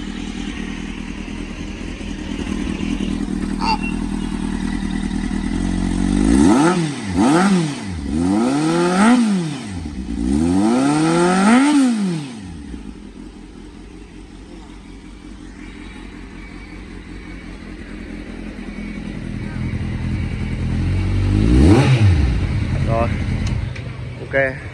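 A 2019 Kawasaki Z800 motorcycle on new tires runs close by, its engine blipped through several sharp revving bursts in quick succession, then settling to a steady idle before one more rev rises and falls near the end.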